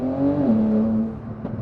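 A Porsche 911 Turbo S engine droning steadily under way, a loud, even tone that eases slightly in pitch before settling, with a faint knock near the end.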